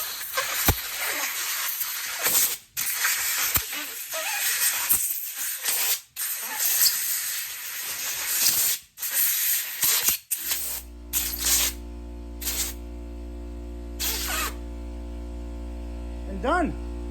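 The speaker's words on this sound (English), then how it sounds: "All you need is a little bit of compressed air." Bursts of compressed air hiss loudly in repeated blasts as a hand grip is blown onto a bicycle handlebar, with brief pauses between, then give way to a steady low compressor hum.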